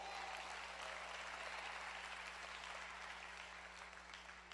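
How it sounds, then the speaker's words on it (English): At a community forum, an audience claps in steady applause for a few seconds. The clapping is dense and sustained, with a faint constant hum underneath. "I see one of our founders, Reverend Leak, give him a round of applause."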